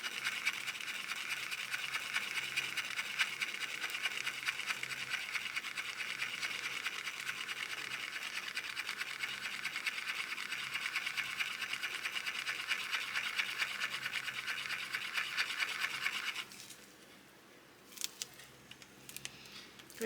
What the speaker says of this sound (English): And then I'm going to give that a good stir.